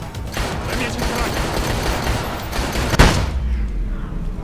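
Sustained rapid gunfire crackles continuously in the video game Dead Rising 3, ending with a sharp louder shot before the noise drops away.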